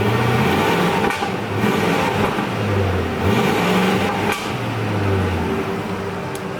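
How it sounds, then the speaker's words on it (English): Ford F-150 pickup's V8 engine idling through its stock muffler, a steady low rumble with a couple of slight revs rising and falling, recorded close and alone without talk. "You just heard my truck turn on, so I'm going to give you guys kind of a sound of what it sounds like right now."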